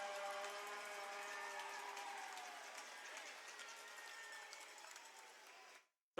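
A hockey arena crowd roars and cheers at a steady, distant-sounding level for several seconds, a broad wash of voices that fades out abruptly near the end.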